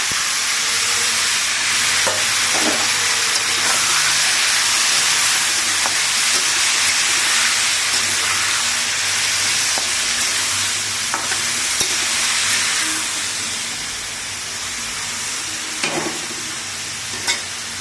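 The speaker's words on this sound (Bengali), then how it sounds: "তেল গরম হয়ে গেছে এর উপরে আমি এবারে দিয়ে দিচ্ছি করলা আলুটা" Bitter gourd and potato dropped into hot mustard oil: a loud, dense sizzle and hiss with intermittent stirring clicks, easing toward the end, with no voices.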